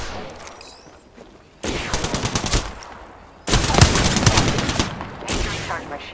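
Gunfire in Apex Legends, from the Wingman: rapid close bursts of shots come in two loud volleys after a quieter opening, with a game voice speaking briefly.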